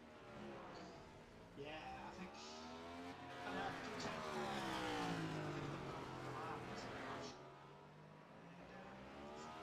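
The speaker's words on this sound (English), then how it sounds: "We have got the new generation of the Cup car out on track at the moment." A new-generation Cup race car at the Anzcar Clash 2022 accelerates on track, its engine note climbing and falling through gear changes as it passes, moderately distant, with someone talking over it.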